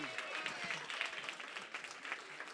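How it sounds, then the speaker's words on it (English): Audience at a charity gala night gives another round of applause, a fairly faint but dense spread of clapping lasting a couple of seconds, with a murmur of voices underneath. "Let's give Aaron another round of applause."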